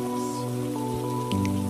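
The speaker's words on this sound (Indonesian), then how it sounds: "Mau keluar tapi kita masih hujan ya." Rain pours down in the video game Minecraft as a continuous loud hiss, with steady game music tones sustained over it and a small shift partway through.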